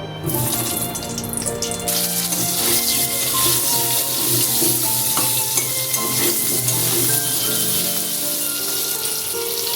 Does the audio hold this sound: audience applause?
no